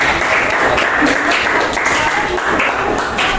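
A classroom audience applauds a presenting student group during a teacher-training lesson, giving a dense, steady round of clapping that fills the few seconds throughout with no break.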